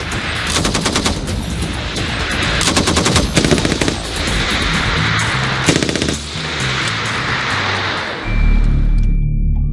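A gun fires in rapid automatic bursts during Singapore commando training, loud and close, with several clattering volleys separated by short gaps and a mechanical rumble at the end.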